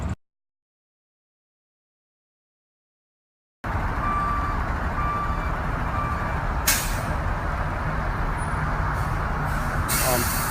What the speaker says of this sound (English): Getting more trucks, ladies and gentlemen.